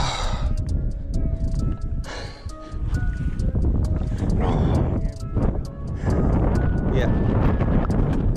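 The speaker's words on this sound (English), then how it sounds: "That wind's a ripping." Strong wind buffets the microphone during bass fishing on a lake, a steady loud rushing roar across the whole clip with occasional voices speaking over it.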